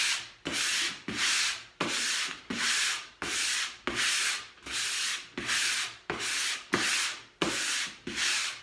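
Hand sanding a chalk-painted wood surface in eleven regular back-and-forth strokes, each a rasping scrape of about half a second, close up with no talking.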